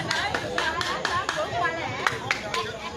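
Scattered, rhythmic hand claps from an audience at an open-air anti-COVID-19 forum theatre show in the Mimboman neighbourhood of Yaoundé, with steady crowd chatter and voices throughout.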